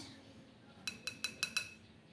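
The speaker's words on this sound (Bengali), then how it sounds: "এইবার আমি ভালো করে সমস্ত কিছু উপকরণ ওই তালের কাতের সাথে মিশিয়ে নিচ্ছি" A utensil knocks against a bowl while mixing cake batter of flour, baking powder and palm fruit pulp, giving five quick, evenly spaced metallic clinks close by against a quiet background.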